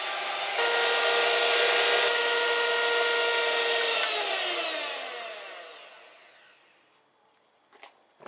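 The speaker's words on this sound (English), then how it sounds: "we're just going to whisk it until it all nicely frothies up into stiff peaks" Electric hand mixer whisking eggs toward stiff peaks, a steady loud motor whine for several seconds that then winds down and fades, with a couple of faint clinks at the end.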